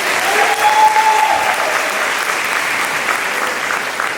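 A graduation crowd claps continuously for several seconds, a dense, even patter of many hands filling a large room, with no speech over it.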